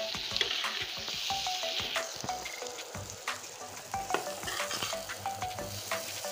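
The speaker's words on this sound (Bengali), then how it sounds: "এবার দেখুন পটলটা আমি ভেজে নিয়েছি, কিন্তু বেশি ভাজবো না, শুধু কাঁচা গন্ধটা চলে গিয়েছে" Pointed gourd (potol) fries in oil in a pan, giving a steady close sizzle broken by scraping stirs and light clinks of the utensil against the pan.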